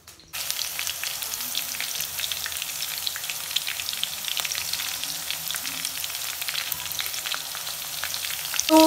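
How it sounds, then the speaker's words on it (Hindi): Green chillies fry in hot oil in a home kitchen pan with a dense, continuous sizzle, loud and close. Fine spattering crackles run evenly for several seconds after a sudden start, and nobody speaks. "तो मिर्च जो है फ्राई हो चुका है"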